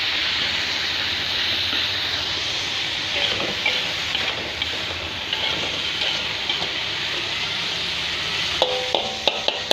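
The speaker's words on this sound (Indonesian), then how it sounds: "Oseng-osengnya." Papaya leaf vegetables stir-fried in a pan, a steady broad sizzling hiss that runs evenly throughout, with a few light clinks of a utensil against the pan near the end.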